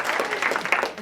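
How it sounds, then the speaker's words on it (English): A short burst of audience clapping for panelists at a discussion event on mass incarceration, dense and moderately loud, with no voices above it. "Let's give them a round of applause."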